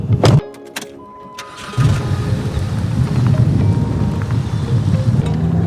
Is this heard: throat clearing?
no